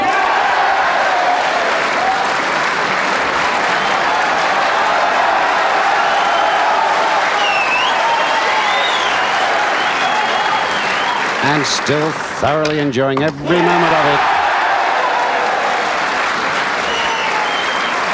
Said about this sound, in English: The crowd here at the Crucible are going mad for Bradford's Joe Johnson.